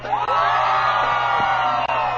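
A parade crowd cheers and whoops in one loud, sustained burst of mixed voices, close and continuous for a couple of seconds.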